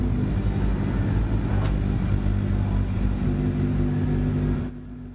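Loud, steady drone of a Peugeot 205 rally car engine at a rallycross race start in DiRT Rally 2.0, a throaty rumble holding high revs before abruptly dropping away near the end.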